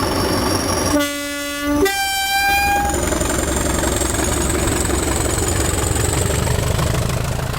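A British Rail Class 60 diesel locomotive model runs around a model railway layout, giving a loud two-tone horn blast near the start before settling into a steady, continuous running hum.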